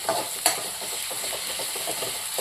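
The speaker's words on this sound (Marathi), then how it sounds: "कांदा लसूण अद्रक आपल्याला असं 2 मिनिट परतून घ्यायचे" Onion, garlic and ginger paste sauté in a pan for cabbage sabji, a steady soft sizzle with light stirring scrapes throughout, close and fairly quiet, with no talk.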